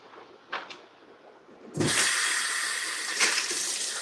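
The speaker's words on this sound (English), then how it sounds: "I wonder if I could add some tap water to that." Tap water gushes from a faucet in a fish room, starting abruptly after a couple of faint knocks and then running as a steady, close hiss.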